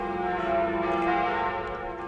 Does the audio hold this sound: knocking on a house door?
no